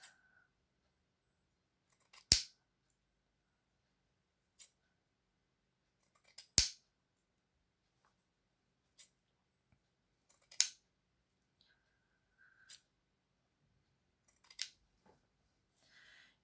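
Scissors snip through lace for crochet-style lace flowers, giving a handful of sharp, isolated clicks spaced a few seconds apart, close and fairly quiet with no talking.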